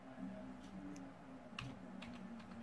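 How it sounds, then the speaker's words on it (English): Faint typing on a computer keyboard, a handful of quiet, irregular key clicks over a low background hum, with no talking. "and type"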